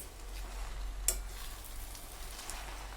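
Fresh spinach stirred in a pan, a faint soft sizzle with gentle rustling and one brief clink of a utensil, quiet and steady with no one speaking.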